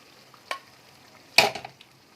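Boiled dal poured and stirred into hot spiced oil tadka makes two brief wet splashes and sizzles, the second louder and longer, with near silence between them.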